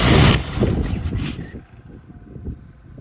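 A 1980 Lincoln Continental engine cranks and catches with a loud burst, then settles into a rough, low idle, heard close by.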